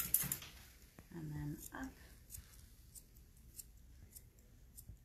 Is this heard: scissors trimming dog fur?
yes